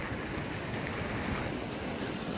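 Continuous rushing water from a monsoon river near Karjat, with a broad, steady wash and some wind buffeting, no voices.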